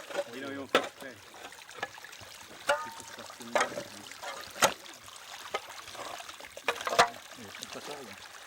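Water trickles and flows back into a restored stream bed, a soft gurgling broken by sharp splashes and knocks, under intermittent talking.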